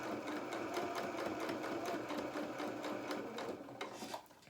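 A sewing machine runs continuously, stitching along the hem of a doll's shirt with a fast, even mechanical chatter that slows and fades at the end.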